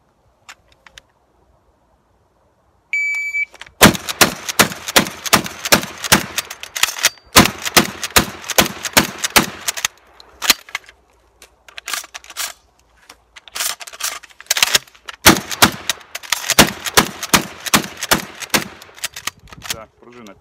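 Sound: shotgun shots fired

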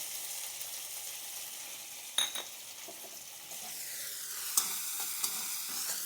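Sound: frying ginger in oil

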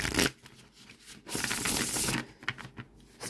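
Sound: shuffling tarot cards

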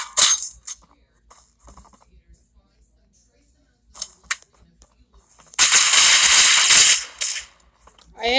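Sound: gunshots in the video game Central Ops

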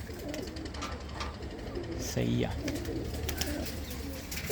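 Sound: red Chinese pigeon cooing

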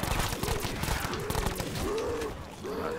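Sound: gunfire in Black Ops 4 Zombies video game

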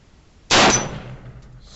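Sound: gunshot hitting orange steel plate at 50 yards

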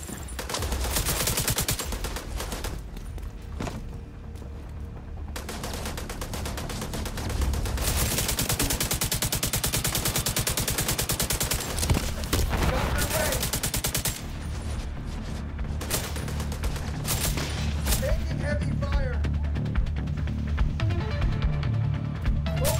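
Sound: heavy gunfire in video game The Division 2

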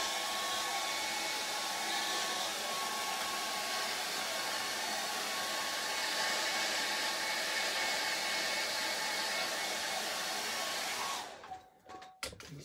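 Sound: hair dryer drying fixative on a drawing

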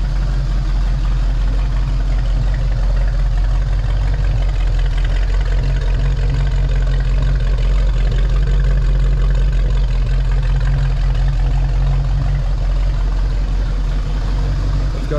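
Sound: Ford Mustang II 302 V8 engine idling

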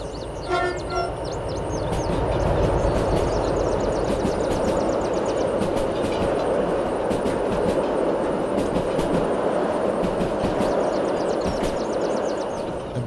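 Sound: train running in video game Derail Valley

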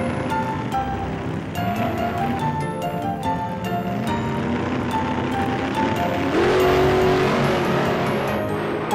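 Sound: race cars driving in a TuTiTu cartoon

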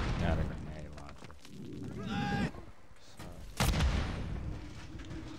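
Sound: grenade launcher gunfire and explosions in a video game

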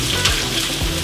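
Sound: onions sizzling in hot olive oil in pan

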